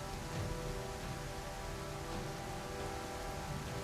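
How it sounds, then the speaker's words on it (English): Rainstorm at night in a dinosaur survival video game, a steady dense wash of rain noise at moderate level with a faint low rumble, no voices. "Night fell and another storm rolled in."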